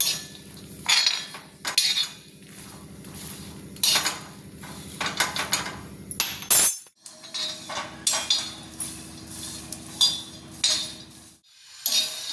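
Peanuts dry-roasting on a hot iron griddle, stirred constantly: repeated scraping and clinking bursts of a utensil against the pan in an uneven rhythm, close by, with a short pause midway and no talking.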